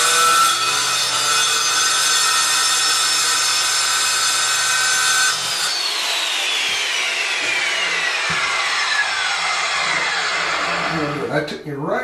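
A power saw cutting an oak floorboard during a closet floor repair: a loud, steady whining cut for several seconds, then the motor winds down with a falling pitch, and brief scraping at the end.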